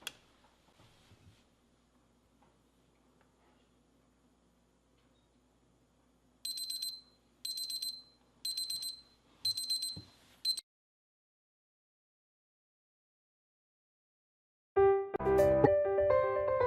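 A ThermoPro meat thermometer's countdown timer alarm sounds off in four loud, evenly spaced bursts of rapid high beeping, near and alone in a quiet room, followed by a separate louder sound at the end.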